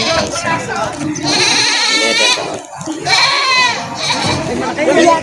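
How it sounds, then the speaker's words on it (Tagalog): Native goats bleat repeatedly with wavering, nasal cries, close by, while someone talks over them. "Native na kambing."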